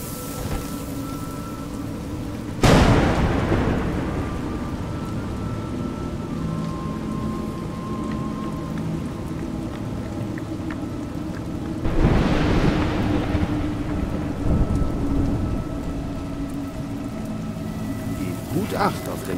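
Steady rain in the fairy-tale adventure game A Juggler's Tale, broken by two loud, close thunder cracks, each rolling away slowly while a voice narrates over it.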